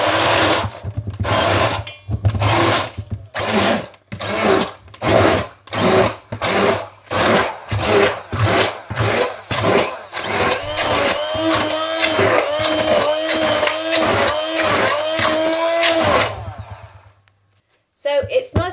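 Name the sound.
hand blender pureeing mango chutney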